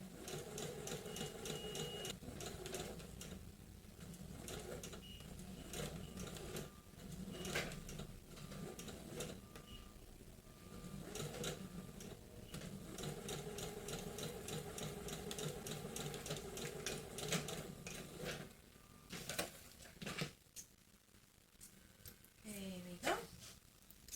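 A sewing machine stitching bias binding onto fabric, a close, steady mechanical whir broken by brief pauses and restarts while a person talks over it.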